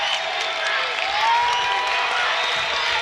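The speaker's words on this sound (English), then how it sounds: "Heritage crowd has come alive." A home crowd at a state Class A boys' basketball quarterfinal cheers and applauds, a dense, bright roar of clapping and shouting that holds steadily loud throughout.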